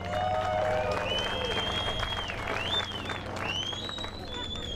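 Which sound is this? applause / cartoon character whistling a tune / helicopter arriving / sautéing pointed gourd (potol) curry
applause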